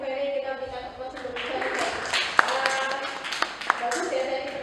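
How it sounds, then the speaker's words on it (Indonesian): Scattered clapping from a small group in an Indonesian teachers' session, uneven claps rising over a room tone while people keep talking. "kita berikan tepuk sebelum"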